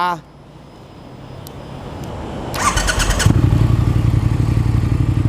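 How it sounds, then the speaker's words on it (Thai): A Triumph Speed Twin 1200 motorcycle cranks and starts, then settles into a steady, loud, rumbling idle from a close exhaust. "เดี๋ยวฟังเสียงท่อกันหน่อยดีกว่า"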